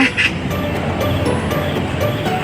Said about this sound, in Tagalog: Yung nag-iingay na ibon